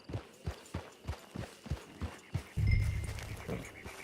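Hooves of a horse in the video game Red Dead Online clip-clop in a steady walking rhythm, close by, then the horse lets out a short whinny near the end.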